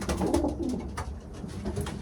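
Racing pigeons in a loft coo softly and repeatedly, low murmuring calls overlapping at close range with faint rustling and no talk.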